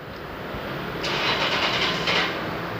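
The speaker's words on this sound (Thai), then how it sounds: "เครื่องยนต์ติดขึ้นมาแล้วนะครับ" A car engine that had been cutting out cranks and catches midway after a new control box is fitted, a rising whirring roar that settles into a steady running hum, close and fairly loud.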